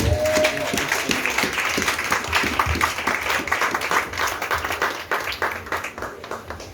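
A church congregation applauds the Lord during a French-language worship service, with steady, dense clapping from many hands filling the room throughout.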